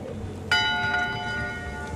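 A ship's bell in the pirate adventure game Return to Monkey Island strikes once, clear and ringing, over a low background murmur, its metallic tone lingering and slowly fading.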